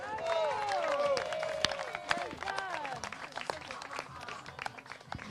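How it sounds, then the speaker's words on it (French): Audience applauding, a dense run of crisp claps with a few voices rising over it early on, then thinning slightly while the clapping continues. "Merci beaucoup, monsieur, sous vos applaudissements"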